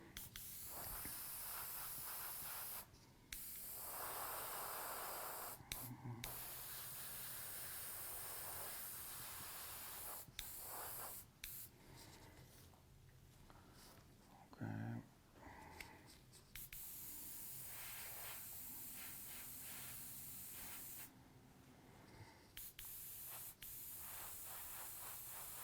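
Candy paint is sprayed onto a scale model bike in long airbrush-like hissing bursts, broken by short pauses and occasional clicks, fairly close and without talk.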